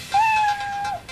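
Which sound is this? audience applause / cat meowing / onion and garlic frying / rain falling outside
cat meowing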